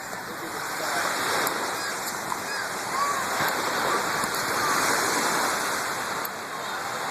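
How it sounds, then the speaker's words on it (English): A waterfall at the beach rushes and splashes in a steady, loud, broadband roar that swells slightly and then eases toward the end, with no voices heard. "another waterfall"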